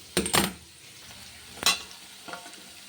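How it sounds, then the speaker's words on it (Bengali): Onion goes into hot oil in a pan while cooking ridge gourd and potato with poppy seed, with a couple of sharp clatters and stirring scrapes over a soft, steady sizzle. "পেঁয়াজটা দিয়ে দিলাম, পেঁয়াজটা একটু হালকা ভাজা হোক"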